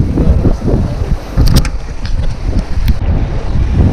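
Steady, loud wind buffets the microphone at an outdoor fishing spot outside Metro Manila, a continuous rough roar with a few gust bursts and no voices.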